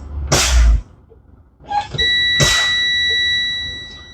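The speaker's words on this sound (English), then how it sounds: "my low air warning light and buzzer came on, no lower than 55 psi." A truck's low air warning buzzer sounds a steady, high electronic tone for over a second, with sharp bursts of compressed-air hiss from the brakes being fanned before and during it.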